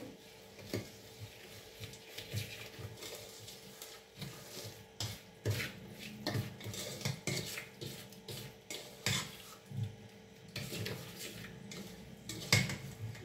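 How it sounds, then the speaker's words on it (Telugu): Metal spoon scraping and clinking against a bowl in repeated, irregular strokes as hot oil tempering is mixed into spice powders for tomato pickle, close by with no talking. "ఈ తాలింపు అంతా ఈ పొడులలో ఇట్లా కలిపేసుకోవాలి."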